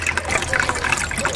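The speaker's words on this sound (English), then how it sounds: "As soon as I press it, pump comes back on." A small solar pond pump for hydroponics and wildlife ponds pushes out a loud, continuous gushing splash of water right up close, with no voices.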